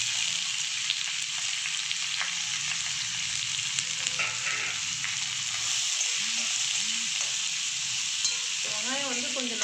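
Onions and dried red chillies fry for an onion chutney, a steady close sizzle running the whole time with occasional scrapes of stirring and no talking.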